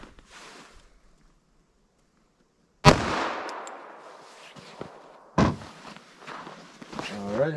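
A 5.3-inch Glock 41 fires .45 ACP semi-wadcutter rounds into clear ballistic gel outdoors: two sharp, loud shots a few seconds apart, each with a trailing echo, after a near-silent stretch.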